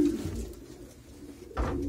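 Breeding pigeons cooing in a spacious loft box lined with straw, low close coos with a louder burst near the end.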